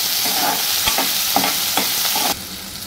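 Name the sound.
chillies and onion being sautéed in a pan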